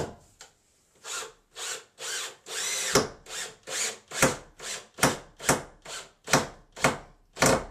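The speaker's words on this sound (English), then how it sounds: "I'm adding screws that's going to hold it." A power drill drives screws into stacked 2x4 lumber during a bathroom remodel, giving a dozen short whirring bursts in a quick, regular rhythm, each rising and stopping abruptly, loud and close.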